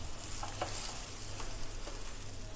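Burger bun halves toasting in melted butter in a hot pan give a steady, close sizzle and crackle throughout, with faint light clinks and no talking.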